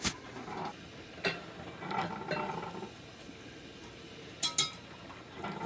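A whisk clinks against a bowl while blending waffle batter, in scattered light taps and short scraping strokes, fairly quiet with a pair of sharper clinks near the end.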